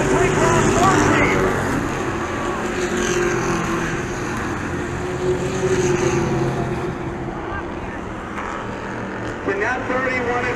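Street stock race cars, including a Camaro, roar around a track with a continuous engine drone and wind buffeting that rises and falls as cars pass, while a race commentator talks over the noise.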